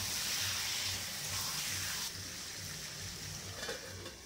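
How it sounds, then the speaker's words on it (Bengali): Chicken sizzles and fries in a pan while being stirred, with a steady broadband hiss and faint scraping throughout, alone with no talk. "তো চিকেনটা দিয়ে একটুখানি কষিয়ে নিয়ে ঢাকা দিয়ে দেবো"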